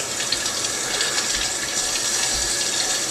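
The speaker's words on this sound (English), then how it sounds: "Just run that under running water" Tap water runs steadily over a denture brush, a constant close hiss and splash of flowing water with no pauses or voices.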